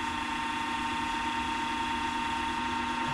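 Lathe spinning at full speed while turning a resin pen on bushings, a steady, fairly quiet mechanical whine and hum held constant throughout.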